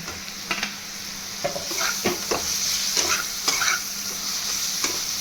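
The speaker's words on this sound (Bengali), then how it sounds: "তলা যদি লেগে যায় জল দিয়ে দিয়ে কষবো। এর সাথে টমেটো কুচিটাও দিয়ে দেবো।" Chopped tomato and masala sautéed in a pan for a fish-head muri ghonto, with steady close sizzling and frying under repeated spoon stirs and scrapes against the pan.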